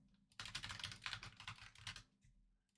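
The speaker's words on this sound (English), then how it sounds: "I'm just gonna type in something random." Quick, close, quiet keystrokes clatter on a computer keyboard for about a second and a half while a password is entered during Hotmail account creation.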